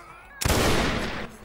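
A sudden burst of musket volley fire from soldiers in a Napoleonic-era war video game, a dense loud crackle lasting about a second before cutting off, with faint talk around it.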